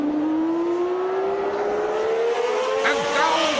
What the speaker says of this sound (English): The Honda machines are running beautifully